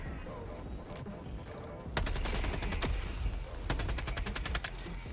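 Sentry turret firing in the video game Helldivers, long rapid bursts of automatic gunfire with a short pause between them, loud over a busy game background with some talking.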